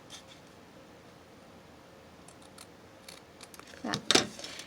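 Scissors trimming the edge of a paper card for a junk journal, a few faint snips building to two close, crisp cuts near the end over quiet room noise.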